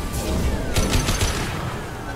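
Rapid gunfire in the video game Mass Effect aimed at injection tubes, a dense burst of shots and impacts over a noisy, busy game soundscape.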